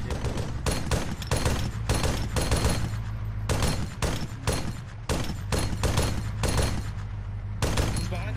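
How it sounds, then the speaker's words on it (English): Repeated bursts of gunfire crackle through an Arma military patrol, sharp shots firing in rapid clusters with brief gaps, loud and close over a steady low rumble. "Shots."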